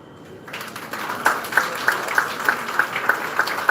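Clapping from the audience at a bioethics felicitation ceremony on a dais, with evenly spaced, moderately loud claps in a steady rhythm after a quiet start.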